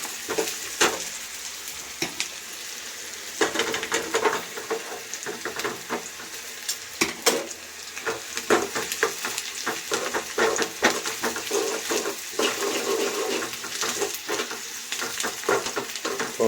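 Onions frying in a pan for a spicy chavanu curry, a steady crackling sizzle with frequent sharp clicks and scrapes of stirring, close and continuous for a long stretch with no talk.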